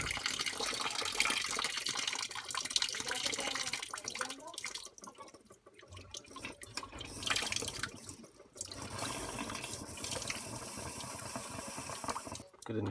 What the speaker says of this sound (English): all this water's in there, it just gushes out